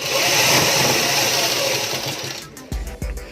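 A sewing machine runs steadily, stitching piping cord along a fabric edge, a loud close whirring hum for over two seconds before it stops, followed by a couple of dull thumps.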